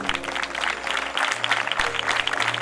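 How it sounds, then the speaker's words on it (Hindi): A church congregation applauds loudly during a Christian worship service, dense crowd clapping carrying steadily throughout with faint voices and a low musical hum underneath. "आइए यीशु के रूह को जोरदार ताली से वेलकम करें"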